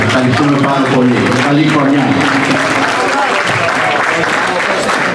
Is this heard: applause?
yes